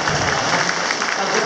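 A crowd at a political gathering applauds steadily, a dense wash of clapping that holds at an even level through the short stretch.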